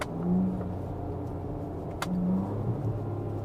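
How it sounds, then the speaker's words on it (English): A Ford Ranger Raptor engine on a highway on-ramp rises and falls in pitch through downshifts, a loud, close mid-range engine drone with a quick rev blip around the middle; no talk. "Such satisfying downshifts."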